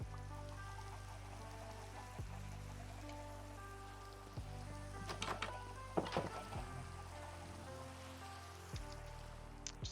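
Steady video-game rain patters continuously over a low droning game soundtrack, with a few brief louder splashy bursts midway; no one talks over it.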